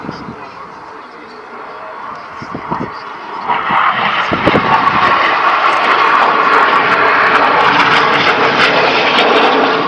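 RAF Red Arrows jets flying past at the RAF Waddington International Air Show, a loud, steady roar that swells after a few seconds and holds as the formation passes close overhead.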